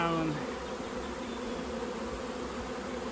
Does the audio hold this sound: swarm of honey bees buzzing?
yes